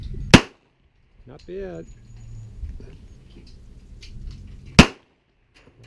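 Two sharp, loud pistol shots ring out from a Smith & Wesson 1911SC at a shooting range, several seconds apart, with brief talking in between.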